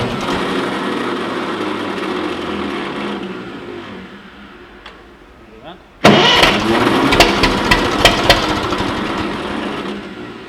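A Ferguson TE-20 petrol tractor with an ignition switch that pops out when the starter lever is pressed cranks on its starter. A low steady rumble gives way midway to an abrupt, loud, clattering run of cranking.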